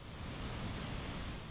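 The thundering water of Victoria Falls makes a dense, steady roar of rushing spray, loud and unbroken throughout with a deep rumbling low end and no voices.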